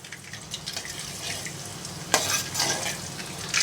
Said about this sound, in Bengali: আমি হচ্ছে আগে শুকনো মশলাগুলো দিয়ে দেব গোল লবঙ্গ এলাচ তেজপাতা দারচিনি একসঙ্গে দিয়ে দিলাম